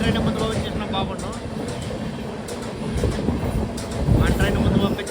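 Continuous close rumble of the Garib Rath Express, bound from Secunderabad to Visakhapatnam, rolling past with a dense low roar and swelling wheel clatter toward the end.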